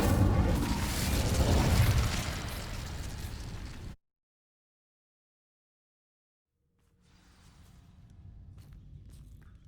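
A spell burst in Hogwarts Legacy on PS5 erupts as a loud fiery whoosh that roars for about four seconds and cuts off into silence. Soft footsteps and ambient game sound then return quietly.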